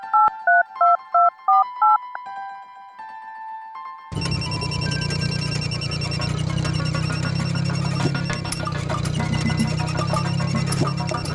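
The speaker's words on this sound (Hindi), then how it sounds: "मैं फोन मिलाती हूँ एक बार।" A quick run of electronic dialing tones, several short beeps in sequence, followed by a louder, busy burst of ringing and mixed noise.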